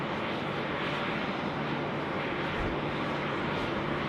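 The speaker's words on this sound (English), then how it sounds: "we enjoy our Qantas 6 inbound from Perth, coming in onto the Northern International Apron here at Sydney Airport" Qantas airliner inbound from Perth taxiing onto the international apron at Sydney Airport, a dense continuous engine whine and roar at steady loudness, no talking.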